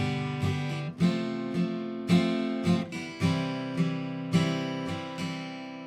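An acoustic guitar strums chorus chords in a steady down-down-down-down-up pattern, with regular strum attacks and ringing chords, close and clear, with no voices.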